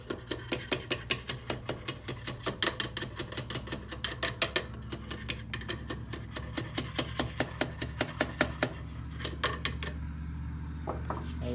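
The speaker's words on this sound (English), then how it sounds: "tap it with a small hammer." Rapid series of light metallic taps from a small hammer during water pump replacement on a Yamaha F115 outboard motor, dozens of quick strikes in an uneven rhythm, close by, slowing toward the end.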